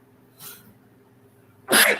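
A person sneezes loudly and close, with a smaller breathy sneeze or sniff just before it, against a quiet room hum.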